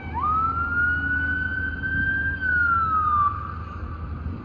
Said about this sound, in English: So many sirens the past few days, fire trucks, all that stuff